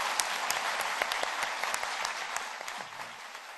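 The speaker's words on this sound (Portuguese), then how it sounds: "Vamos aplaudir." Audience applause fills the hall after an academic lecture, a dense, steady wash of many hands clapping at close range with no speech over it.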